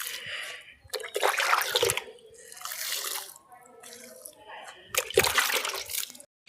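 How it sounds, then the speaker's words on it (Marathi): Water poured from a bucket, splashing and sloshing in several loud bursts separated by quieter gaps, with voices audible in the background. "आपण एक एक करून तिन्हीला पण पाणी घातलं."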